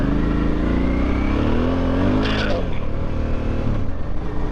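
A motorcycle engine revs in a couple of quick throttle blips, loud and close, over a steady engine drone, with a voice talking partway through.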